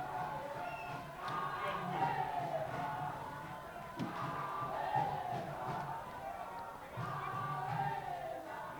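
Crowd at a women's football match, the FNB Women's Super League game between Girls & Goals FC and Arrows Ladies FC, roars and cheers steadily throughout with a few sharp shouts rising from the stands.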